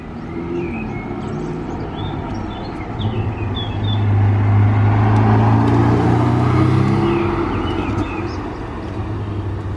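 A Ferrari 488 Pista sports car approaches and passes by outdoors, its engine swelling into a steady low roar that peaks mid-pass and then fades, with faint birdsong and distant traffic in the background.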